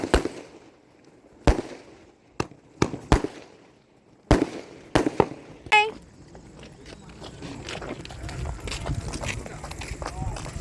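Firecrackers at a surprise birthday celebration burst in a loud, irregular series of sharp bangs, then give way to a busy wash of crowd noise and people talking.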